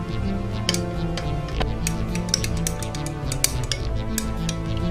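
Homemade fake-blood slime being mixed in a container, giving a run of quick close clicks, taps and wet squelches in an irregular rhythm, steady throughout with no talk.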